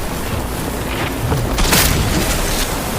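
A large explosion in the video game Cyberpunk 2077: a loud, broad blast swells and rolls through the middle of the clip, set in constant dense game noise.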